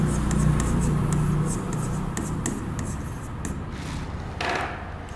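A pen scratches across paper in short strokes and taps while a matrix determinant is written out by hand for a class 12 maths exercise, close and steady, with a faint voice at moments.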